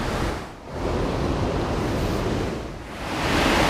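A waterfall beside a bridge on the grounds of Dalkeith Palace rushes steadily, a loud, broad wash of falling water with brief dips in level, heard close outdoors with no talk.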